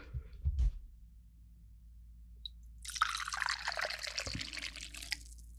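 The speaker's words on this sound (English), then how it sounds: "Now listen to your daddy pour some tea" Tea being poured, a steady liquid trickle and splash that starts midway and runs on to the end at moderate level, after a few faint knocks and handling noises at the start.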